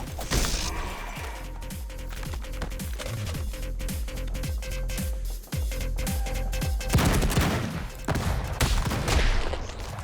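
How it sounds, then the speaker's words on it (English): Rapid bursts of gunfire crackle in the video game Madness: Project Nexus, with loud repeated shots in quick rhythmic volleys over a dense, busy background of clanks and impacts. "Gun."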